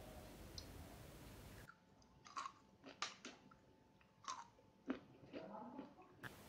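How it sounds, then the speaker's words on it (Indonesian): Crispy fried tempeh chewed close to the microphone, a run of crunchy bites and crackling chews coming in irregular bursts after a brief noisy opening, quiet between each crunch. "Apakah kamu ingin mendengar seperti apa suara dari tempenya?"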